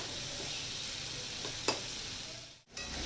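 Ash gourd sautés uncovered in a pan with egg, giving a steady bright sizzle and a brief scrape of stirring, with a short dip partway through and no voices.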